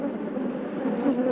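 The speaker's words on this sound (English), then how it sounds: "the bees persisted in their attack" Attacking killer bees swarm with a steady, low droning buzz, moderately close and continuous, with no voices over it.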